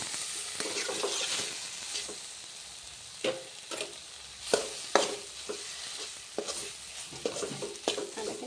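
Potatoes frying in a pan for a dhaba-style egg curry, a steady quiet sizzle with repeated scraping and stirring knocks from a spatula, close by and with no voices.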